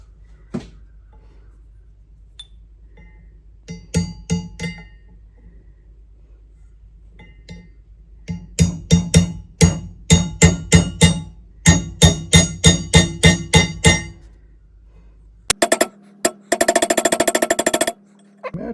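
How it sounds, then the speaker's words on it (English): Series of sharp metallic taps in quick bursts as a part is tapped into a Traditions Kentucky rifle barrel, near and loud, with a pause between groups and a denser rapid clatter near the end. "just tap it in, tap it in."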